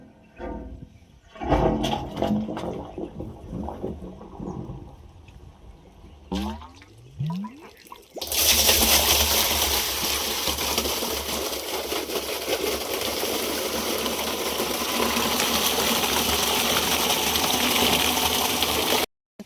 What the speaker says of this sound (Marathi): मोटर चालू केली विहिरीवरली